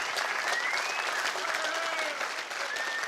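A rally crowd at an anti-carbon-tax event in Nova Scotia breaks into sustained applause, thick continuous clapping with a few whistles and cheers rising over it.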